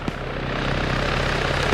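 A military helicopter flies over a Gulf War–era Fallujah battlefield in a multiplayer video game, its rotor and engine making a steady, loud, pulsing drone with no voices over it.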